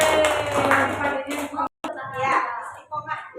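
A group claps at an Indonesian school gathering, with loud, dense applause running under talk that is broken by a brief gap. The clapping fades out as the talk continues.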